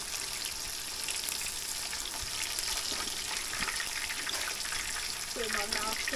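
Northern pike fillets sizzling in a frying pan, a continuous hiss of oil with small pops, while a voice murmurs briefly near the end.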